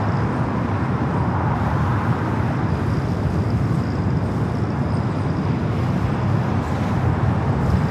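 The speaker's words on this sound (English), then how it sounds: "That is the Lufthansa A380 Super coming up from Munich." A Lufthansa Airbus A380 arriving at LAX from Munich gives a steady, broad jet roar, distant but dense and unbroken, blended with a low airport and road traffic rumble.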